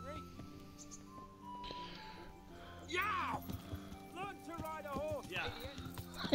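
Horse hooves clip-clop in the medieval video game Kingdom Come: Deliverance, rhythmic and moderately close, with a horse whinnying and voices talking over them.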